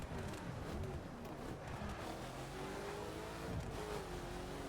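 Expensive car in a video game driving along a long straightaway, its engine note holding steady and sliding up and down in pitch as it revs and accelerates, with no talk over it.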